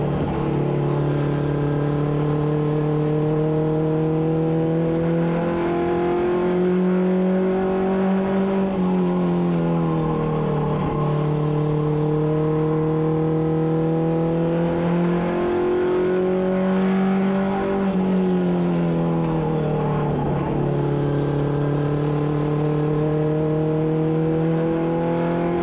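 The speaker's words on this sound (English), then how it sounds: "It's amazing, these cars, the way they run, as fast as they are, as small as they are." Small Allison Legacy Series race cars roar around Caraway Speedway, their engines rising and falling in pitch as they accelerate through the laps, loud and continuous without talk.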